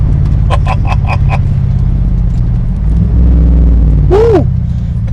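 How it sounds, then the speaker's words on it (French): A deep, steady exhaust rumble from a 2016 Morgan Aero 8 Roadster throbs throughout, with a brief rising whine near the end. "Bruit de l'échappement."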